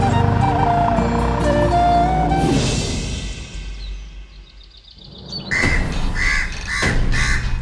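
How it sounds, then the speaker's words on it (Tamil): A crow caws several times in quick succession, loud and close, after a stretch of mixed background sound that fades away before the calls begin. "ஒரு கல் எடுத்துட்டு போய் அங்க கத்திக்கிட்டு இருக்கிற காக்காவை விரட்டி விடு போ."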